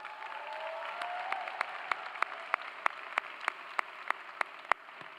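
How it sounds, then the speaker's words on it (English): High school graduation ceremony applause in a large venue: a soft, distant wash of clapping from the crowd, punctuated by a regular series of sharp, nearer single claps toward the end. "Let's give her a round of applause."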